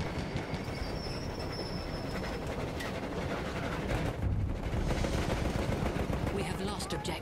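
Armored train rumbling along in the Battlefield 1 video game, a steady loud rolling drone with mechanical rattle and scattered gunfire, with faint voices underneath.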